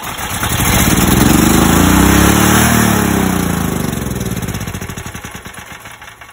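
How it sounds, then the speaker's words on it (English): A portable generator with a high-speed running fault starts up close by, its engine surging quickly to a loud, steady rattling roar. After a few seconds it settles and begins to fade. "Let's start the gen and see whether it's gonna work."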